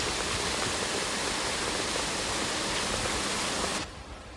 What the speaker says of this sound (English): The river widened, the water flowed, and it showed us its rhythms.